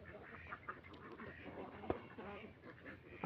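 Ducks on a duck farm of about 180 birds quack faintly in scattered bursts against a low murmur of background noise, with one sharper call near the middle and another at the end.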